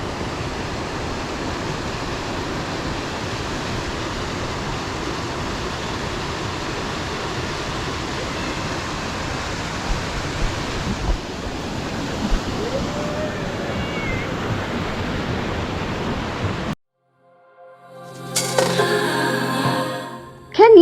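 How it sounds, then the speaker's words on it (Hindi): Near Kasol, a gushing mountain waterfall sends up a constant, loud broadband roar for most of the stretch, then it cuts off abruptly and a brief, different rush follows. "Just me, the gushing waterfall and the chirping of the birds."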